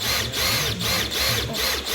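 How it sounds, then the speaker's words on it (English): A power drill whirs in short repeated bursts, about four pulses with brief dips between them, close and steady, pilot drilling through a boat's fiberglass to fit a rubbing strake. "Just pilot drill it."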